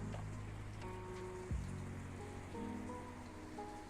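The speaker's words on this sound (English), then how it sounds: "Oh, I love the sound of rain." Steady rain falls in a VRChat world, a dense continuous patter heard under soft music tones and low ambient hum, with no voices.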